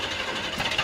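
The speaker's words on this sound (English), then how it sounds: "you start the engine" A spaceship engine starts as a dense, steady roaring rumble with a slight rough flutter, loud and continuous throughout, with no talking over it.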